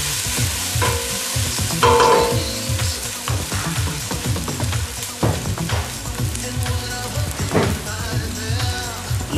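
Caramelized onions for a Cape Malay lamb curry sizzle steadily in a pot while a utensil stirs and scrapes through them in repeated strokes, loud and close with no voices.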